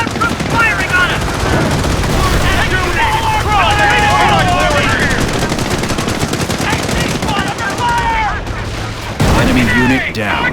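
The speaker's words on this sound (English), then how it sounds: "We have ground troops firing on us!" Rapid machine-gun bursts and rifle fire from ground troops in the World War II strategy game Company of Heroes, loud and dense throughout, with shouted battle voices and engine rumble mixed in.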